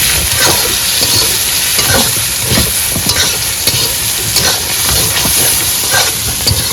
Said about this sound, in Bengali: আদা আলু সঙ্গে দেবো একটু লবণ একটু হলুদ গুঁড়ো মশলাটাকে এবার সুন্দর করে কষিয়ে নিই